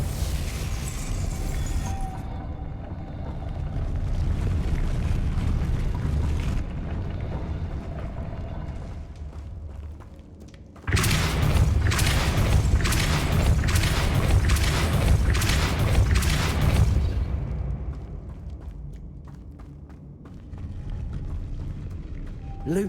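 A Depulso spell goes off in Hogwarts Legacy as a loud, sustained whooshing blast that swells and rumbles over a dense game soundscape, set among other spell casting.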